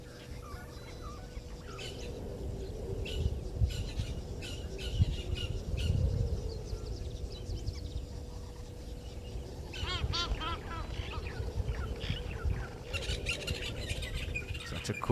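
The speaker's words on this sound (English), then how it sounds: "Again, you can hear that Jacobin cuckoo there." A Jacobin cuckoo gives repeated sharp, ringing calls outdoors in the wild, with clusters of calls rising over a steady background of other birdsong and insect noise, moderately distant.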